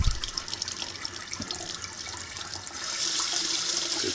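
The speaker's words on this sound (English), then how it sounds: "So now we're just going to rinse these." Tap water running steadily over tomato seeds being rinsed, a continuous close splashing rush that grows slightly louder and fuller toward the end, with no talking.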